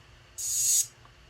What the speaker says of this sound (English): I added this little reverse hat on there